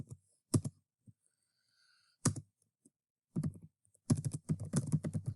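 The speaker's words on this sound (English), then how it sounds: "I position my cursor here and I begin typing my rationale for my changes." Someone types on a computer keyboard, with scattered single key clicks followed by quick bursts of typing, close and crisp, with quiet gaps between them.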